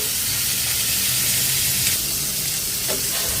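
Fresh tilapia sizzles lightly in hot oil, a steady dense hiss filling the whole moment, close and loud with no voices.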